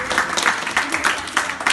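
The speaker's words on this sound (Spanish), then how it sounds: "Un aplauso para esas banderas más Mario." A group of about four-year-old schoolchildren clapping together in a classroom, fast uneven applause with overlapping claps and some voices mixed in.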